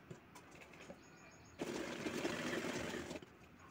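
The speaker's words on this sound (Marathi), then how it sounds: "ब्लाऊजच्या दोन्ही बाजू साईडनं शिवून घ्यायच्या" Sewing machine running steadily for about a second and a half, stitching the side seams of a brocade silk blouse, a loud continuous whirr that stops abruptly, with quiet room noise before and after.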